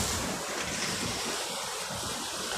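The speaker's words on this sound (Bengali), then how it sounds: "বিশাল সমুদ্রের আসছে গর্জন শোনা যাইতেছে এই জায়গায়।" Sea waves roar continuously on the shore, a broad, loud wash of surf mixed with gusting wind against the microphone.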